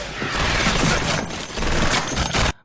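Gunfire from a Japanese film scene, a dense, loud burst of rapid shots and booming impacts lasting a couple of seconds before cutting off abruptly.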